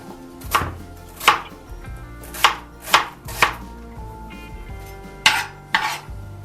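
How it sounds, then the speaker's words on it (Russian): A knife chops onion on a cutting board in sharp, irregular strokes, about eight crisp knocks, close by and with no one speaking. "Нарезаю лук."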